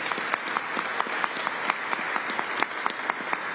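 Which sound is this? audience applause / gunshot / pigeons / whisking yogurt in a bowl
audience applause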